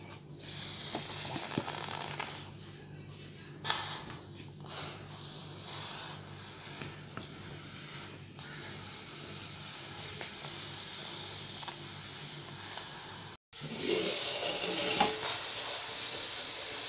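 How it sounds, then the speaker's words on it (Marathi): Steam hisses from a covered pot of cooking rava kurdai dough, a soft, steady hiss with a few brief bursts and a louder, brighter rush near the end. "छान अशी आपल्या चिकाला वाफ आलेली आहे."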